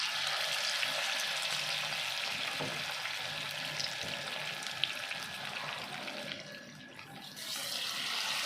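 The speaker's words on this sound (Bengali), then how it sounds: "এই তেল গরম হয়ে গেছে, আমি এবার এটা ভাজবো। এবার আমি একটা একটা করে ছেড়ে দেবো।" Egg-coated chicken pieces frying in hot oil, a steady, close sizzling hiss that holds for the whole stretch with only a brief dip near the end.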